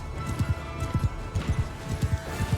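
Horse hooves in the Mount and Blade Bannerlord video game clatter in a quick galloping rhythm during a battle, steady and fairly close over a low wash of background noise.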